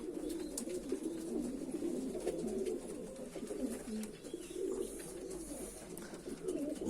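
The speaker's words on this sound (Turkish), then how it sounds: "Burası oyun kuşları kümesimiz." Pigeons in a coop of play birds coo continuously in low, overlapping murmurs, fairly soft and steady throughout, with no talking.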